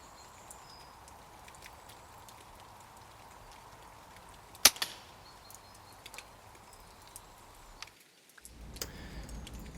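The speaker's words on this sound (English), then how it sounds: "I decided to stick a Ayrshire silencer on my rifle." A rifle fitted with an Ayrshire silencer fires once outdoors in wet weather, making a single sharp, muffled crack partway through, amid quiet ambient rustle and dripping.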